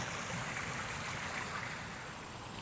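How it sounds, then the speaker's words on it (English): A small garden water feature beside a shaded greenway trail trickles in a steady, soft, unbroken wash of running water, with no voices. "beautiful little water feature here right along the Greenway"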